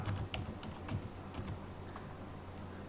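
Fingers type on a computer keyboard while entering an email address on a registration form, a steady stream of quick, soft key clicks at close range with no voices.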